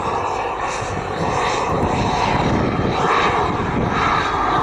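Model jet aircraft flying manoeuvres at the Large Model Association show at RAF Cosford, a loud steady turbine roar with slow swelling and fading as it passes, alone without talk.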